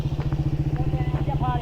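A motorcycle engine idles close by with a steady, rapid, thumping low rhythm. Brief voices and clatter sit over it, and people speak nearby, in a trip setting in Hunza.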